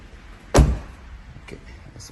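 Single sharp thud of a car door shutting on a 2015 Jeep Grand Cherokee, close and loud, followed by quiet shuffling and a few faint knocks.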